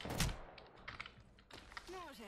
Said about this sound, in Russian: по мне тут стреляют